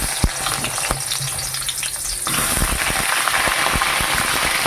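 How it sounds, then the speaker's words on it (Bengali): Eggplant pieces fry in oil for a Bengali shukto, a bright crackling sizzle that jumps noticeably louder and fuller partway through as the pieces go in, then holds steady and close. "এবার আমি বেগুনগুলো ভেজে নেব"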